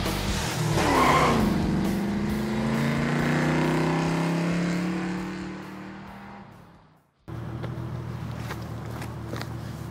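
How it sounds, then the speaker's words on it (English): A Nissan 370Z Nismo spins a donut with its tires squealing loudly and the engine revving, the pitch sliding as the car swings round for several seconds. The squeal then cuts off and a steady engine rumble follows. "Charlie trying to do a donut for the first time in the Nismo Z"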